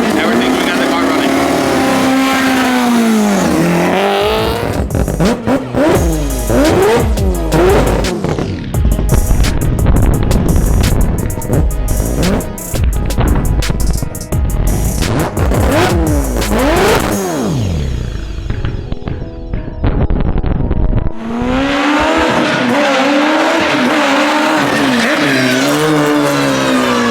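A loud four-rotor engine in a Toyota Supra revs hard and repeatedly, pitch sweeping up and down through gear changes, with screeching tires as the car slides while drifting, close and continuous.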